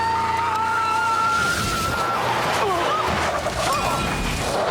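A Corvette's tires skid with a rising, wavering screech over a loud, steady engine roar, part of a dramatic driving scene in a Doctor Who episode, with a voice briefly heard in the mix.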